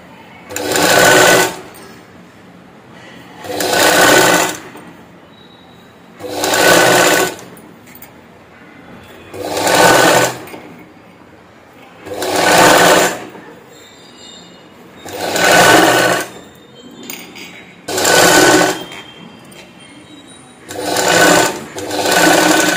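A sewing machine stitches a princess-cut blouse in nine regular bursts of a couple of seconds each, with short quiet pauses between them, close and clear with no talking.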